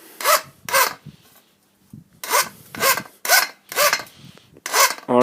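A file rasps a hole into a cardboard egg carton meant for indoor seedlings, in about seven close, rhythmic scraping strokes separated by short pauses, with no talking.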